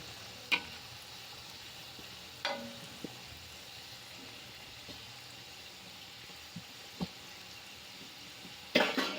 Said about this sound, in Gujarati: આવી રીતે ધીરે ધીરે પલટાવતા જવાનું છે ને આપણે કચોરી તળતા જવાનું છે